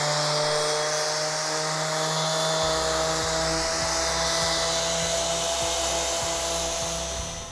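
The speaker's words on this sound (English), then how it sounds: "Now that we've used our sander to make our piece nice and smooth" An electric sander works over a piece of wood in a woodworking shop, giving a steady, close whirring rush with a low hum and faint regular ticking throughout, with no talking.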